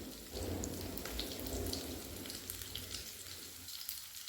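Julienned onion and garlic frying in a pan, a dense, steady sizzle with a rain-like hiss and low crackling throughout.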